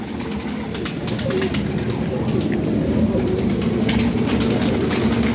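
Domestic pigeons kept by a pigeon fancier, out of their loft and perched or walking about, give a steady low cooing chorus with faint wing flutters, continuous and fairly close throughout.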